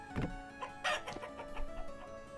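A rooster and hen cluck in the game Vintage Story, a few short, soft clucks spaced over about two seconds, with no talk.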